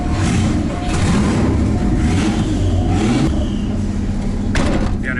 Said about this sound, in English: All right, going out for the first drive.